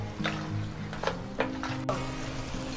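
Ginger garlic paste frying in a pan for mutton rosh, a soft steady sizzle running throughout with a few brief stirring scrapes and clinks, close and moderately quiet.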